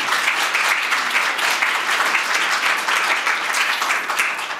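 Sustained audience applause at an award ceremony for a professors' prize competition, dense steady clapping from a full hall lasting throughout with no break, loud and even.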